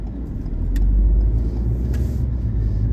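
Road traffic rolls past continuously at a busy spot near a gas station on an autumn day, a steady loud low rumble of car engines and tires without any voices.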